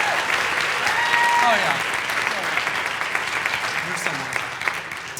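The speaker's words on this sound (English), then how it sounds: "Let's give them a round of applause" An audience at a medical school follies stage show applauds the advisors, a dense, sustained wash of clapping with a voice calling out briefly over it, gradually easing off.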